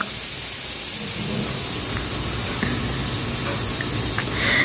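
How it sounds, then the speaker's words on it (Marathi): A pressure cooker whistle blasting out steam in a home kitchen, a loud continuous hissing rush that holds steady and close for several seconds. "या ठिकाणी कुकरची शिट्टी पण झाली."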